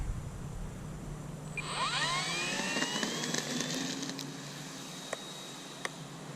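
Flightline 1.6m F4U Corsair RC model plane, a high-pitched electric whine that sweeps upward as it spools up, then holds steady and thins out as it moves away, with a few sharp ticks.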